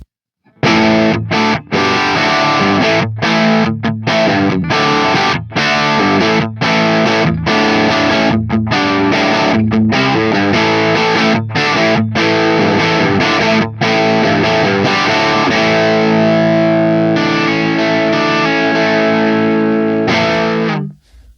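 An electric guitar through a Marshall-style DC Electronic overdrive pre-amp pedal, reverb off, plays gritty chords and single notes, loud and steady for about twenty seconds, with no voices.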